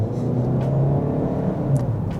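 A 2025 GMC Terrain Elevation accelerates hard with a steady, close engine rumble and low whir from inside the cabin, holding even in loudness without rising sharply.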